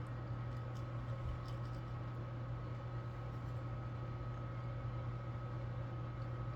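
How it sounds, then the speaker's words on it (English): A kitchen oven runs in the background, a faint, steady hum and whir with a low drone that holds unchanged throughout. There is no talking. "You can hear the oven in the background."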